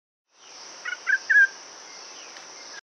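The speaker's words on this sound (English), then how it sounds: "Black-capped bulbul." A Sri Lankan black-capped bulbul gives a few short, bright call notes in a quick cluster over a faint steady background hiss, fairly close but not loud.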